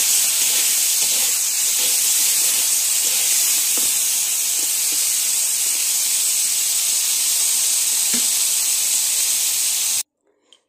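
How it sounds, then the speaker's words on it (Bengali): Cauliflower, potato and eggplant frying in hot oil in a pan give a steady, loud hiss with light crackles throughout. It stops abruptly near the end, leaving near silence and a faint tap. "এখন এক এক করে সব কিছু ভেজে নেব।"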